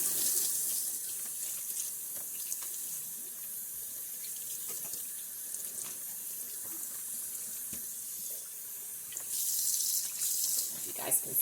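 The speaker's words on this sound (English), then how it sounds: "Now I'm going to give him a good rinse with cold water." Cold water runs steadily from a kitchen sink faucet over a whole raw turkey being rinsed, a continuous close splashing hiss with shifting spatter as the bird is moved under the stream.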